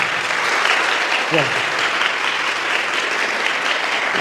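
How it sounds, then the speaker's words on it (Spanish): A church audience gives loud, sustained applause throughout, with a voice briefly speaking over the clapping. "Recibámoslo con un fuerte aplauso."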